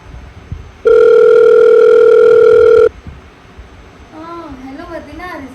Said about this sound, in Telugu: నేను ఒకసారి ఫోన్ చేసి కనుక్కుంటానే